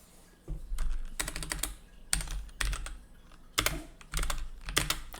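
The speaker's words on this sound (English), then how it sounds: "I'm just typing, dude." Computer keyboard typing in bursts of rapid clicking keystrokes, fairly close and clear, with short pauses between runs and no talking.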